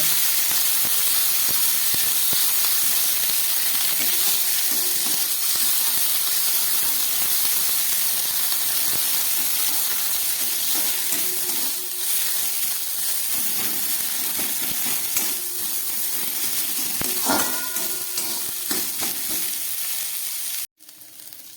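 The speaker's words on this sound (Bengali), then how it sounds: "আমার মেথি শাকটা ভাজা হয়ে গেছে" Fenugreek greens fry lightly with cumin powder in a pan on a gas stove, giving a steady broadband sizzle and hiss that runs continuously and fairly loud, with faint utensil knocks near the end.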